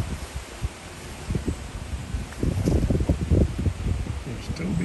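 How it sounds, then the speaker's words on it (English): Gusty wind buffets the microphone outdoors in low rumbling bursts, growing stronger midway, with a voice faintly underneath. "Now that it's windy."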